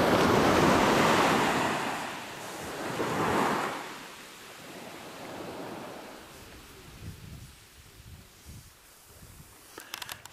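Ocean waves wash onto Swansea Beach on the East Coast of Tasmania, two strong surges of surf that fade into softer, rolling wash, with wind buffeting the microphone throughout.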